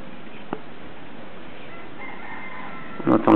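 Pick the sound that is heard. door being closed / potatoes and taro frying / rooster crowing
rooster crowing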